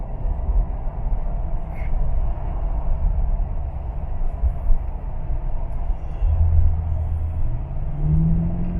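Steady low engine and road rumble from a car with a diesel engine and automatic transmission, slowing from sixth gear toward 80 km/h, with a faint rising drone near the end and no talking.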